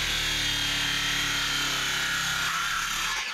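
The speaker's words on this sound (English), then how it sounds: "I'm gonna do the outside cut with the circular saw" A circular saw runs continuously at full speed while cutting wood trim on a roof, a loud, dense whine that holds steady for several seconds before its tone dips slightly near the end.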